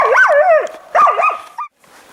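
A hunting dog on a sable hunt in Yakutia lets out two close bursts of yelping, whining barks, with a brief pause between them before falling quiet.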